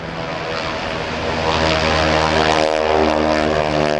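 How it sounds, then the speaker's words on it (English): A T-6/SNJ propeller trainer in Air Force markings, flown by Bill Leff, takes off at an airshow with smoke on, its loud radial-engine drone and propeller roar swelling steadily as it gathers speed, while an announcer talks over it. "Watch for the nose to come up as Bill Leff gets his flying speed up"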